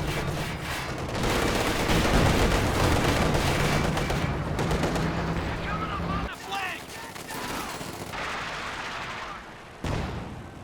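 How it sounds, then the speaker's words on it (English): Calliope rocket artillery barrage in Company of Heroes 2, a dense, loud roar of rapid launches and explosions rumbling continuously for about six seconds, then thinning to scattered distant blasts and crackle with a sharp burst near the end. "first Calliope barrage"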